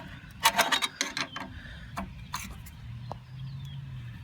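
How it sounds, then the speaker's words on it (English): A wrench works on a carburetor bolt of a Yard Machine MTD tiller's 5.5 Tecumseh engine, giving a quick cluster of close metallic clicks and clanks, then a few sparse taps over faint background hum. "sometimes you're able to just work the wrench around here and get in here, and you can get to it and break it loose"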